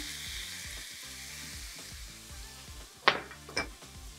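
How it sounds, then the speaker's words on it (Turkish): Spinach and onions sautéing in a pan, a steady close sizzle with rhythmic stirring scrapes, then a couple of sharp utensil clinks against the pan near the end. "Tavaya ekliyorum ıspanağı."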